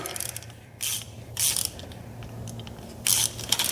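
A ratchet wrench tightens a newly installed steering linkage on a vehicle, with several bursts of rapid clicking separated by short pauses and a low mechanical hum underneath, close and without talk.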